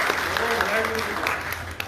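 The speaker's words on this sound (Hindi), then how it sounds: "एक बार जोरदार मेरी ओर से ताली हो जाए" Crowd applause at a Hindi political protest rally: a steady, dense patter of clapping lasting a couple of seconds, with a voice audible over it.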